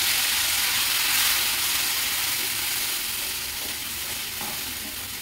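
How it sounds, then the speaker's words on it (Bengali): Spice paste for palak paneer sizzles and spits in a hot pan in a dense, steady hiss, loud and close, easing slightly in strength over the stretch without any voices. "এবার এই পেস্ট করে রাখা মশলাটা দিয়ে দেব।"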